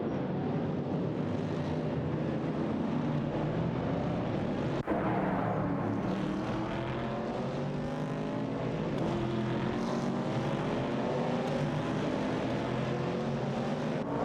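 Race car engines in a racing video game, a Chevrolet Camaro 70 and a Ford Mustang Boss, roar in a loud, continuous drone with shifting pitch and no letup.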